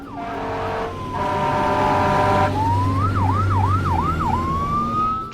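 A fire truck siren, loud and near, opens with long wailing tones and then breaks into a rapid rising yelp pattern over a deep engine rumble.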